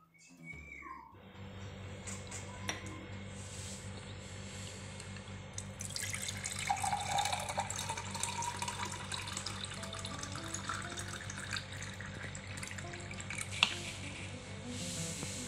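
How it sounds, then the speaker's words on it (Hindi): Water runs from a kitchen tap into a glass, a steady close splashing stream after a brief start, with a few small clinks and drips over the continuous flow. "अभी पानी का ग्लास भर के मैंने रख लिया है"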